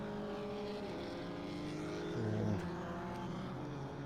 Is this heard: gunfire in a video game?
no